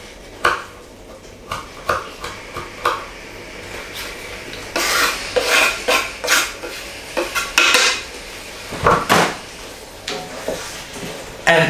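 A spoon stirs a vegetarian chilli mixture in a pot, producing repeated clinks and scrapes of metal against the pot in an irregular rhythm, close and fairly loud with no talking.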